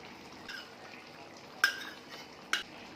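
A spoon stirs ginger-garlic paste into a simmering korameenu fish curry in a pot, with a low bubbling bed and two sharp metallic scrapes against the vessel, close and fairly quiet.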